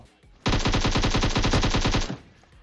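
A rapid burst of automatic gunfire from PUBG Mobile rattles for about a second and a half, loud and close, dozens of evenly spaced shots before cutting off.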